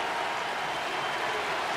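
Baseball stadium crowd roaring loudly and steadily at a Padres–Cubs game during a tense full-count at-bat, a dense broadband wash of noise with no break.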